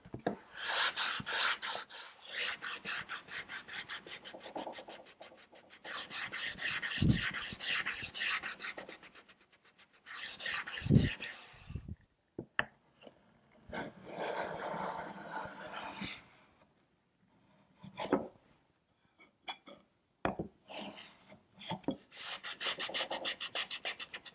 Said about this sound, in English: I'll come in with my 220 paper and just sand here.